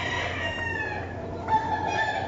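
Roosters at a five-bird cockfighting match in Maravatío, Michoacán crow in overlapping, drawn-out calls, fairly close and clear with no talk.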